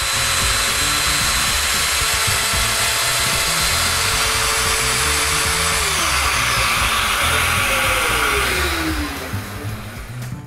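A power tool cuts leg mortises for dominos on a nine-drawer wooden chest of drawers, a loud continuous whine and rumble that holds steady, shifts pitch partway and winds down at the end.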